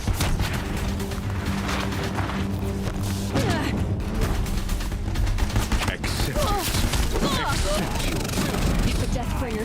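Deathbringer machines firing in the video game Horizon Zero Dawn: a loud, dense barrage of gunfire and booming blasts with crashing impacts and a low droning hum, continuous throughout, with voices and battle noise mixed in.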